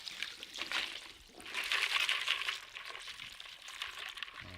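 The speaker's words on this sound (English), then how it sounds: "I will fill this up with water" Tap water running into a pot to make an ice bath in a kitchen, a steady splashing rush that swells and eases over a few seconds, fairly close and alone without talk.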